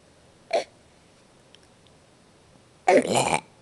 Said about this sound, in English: now that you burped in front of everybody